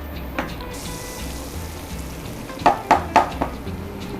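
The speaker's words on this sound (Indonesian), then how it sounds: "Nah, kita panaskan butternya" Butter melting in a hot pan while making a rice mentai cake gives a soft crackling sizzle, with a few sharp spits and pops near the end.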